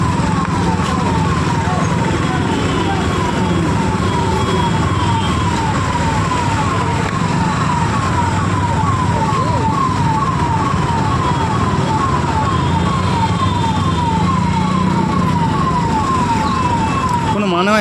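Emergency vehicle siren wailing in a fast, repeating up-and-down pattern amid a traffic jam on the NH34 highway near Berhampore, Murshidabad, steady and fairly loud over engine and road noise, with voices faintly underneath.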